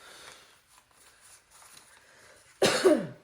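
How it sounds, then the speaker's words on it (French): After a few faint, quiet sounds, a single loud, close cough bursts out near the end. "Je viens de tousser, j'ai plus d'air."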